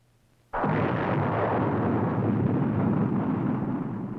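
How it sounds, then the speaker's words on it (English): An Army Jupiter-C missile launches with a sudden loud roar that starts abruptly after a quiet moment and then holds as a dense, sustained rumble. "the launching of the Army's Jupiter-C missile system that put into orbit the free world's first satellite, Explorer 1"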